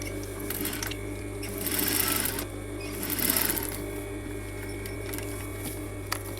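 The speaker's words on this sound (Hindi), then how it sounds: "इसके ऊपर यहाँ पे किनारे की सिलाई लगाएंगे" Sewing machine stitching along the edge of a coat collar piece, a steady continuous mechanical whir with two louder bursts of faster stitching, close and alone with no talk.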